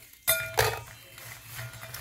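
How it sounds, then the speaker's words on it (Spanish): Marie biscuits being dropped into a glass blender jar for atole, two quick clinking knocks close by followed by a faint rattle and a low background hum. "ahora las vamos a poner en el vaso de la licuadora, mi gente, para poder molerlas"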